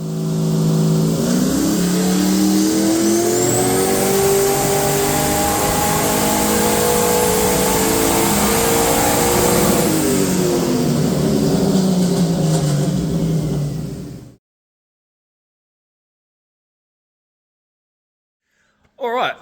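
Ford XG Ute on a dyno with an intercooler setup, the engine revving hard and loud for about fourteen seconds with rising and falling harmonics, then cutting off abruptly into silence before a brief noise at the end.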